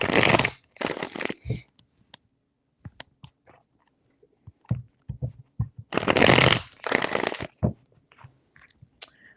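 Tarot cards riffled and shuffled by hand in several separate bursts, crisp close fluttering rushes with brief taps and handling noises between them, no voices.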